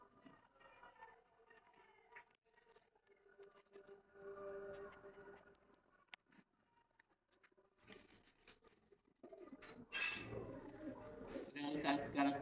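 A male Noton pigeon that had been sick coos faintly and intermittently, mixed with soft rustling and pattering in the coop, with louder scuffling toward the end.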